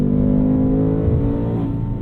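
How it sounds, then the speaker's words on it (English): A Ford Mustang Mach 1 engine revs hard and steadily, its loud, droning tone holding high toward the limiter, with a slight dip near the end. "It loves to rev into the limiter."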